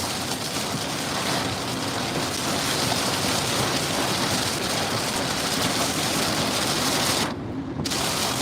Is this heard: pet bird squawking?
no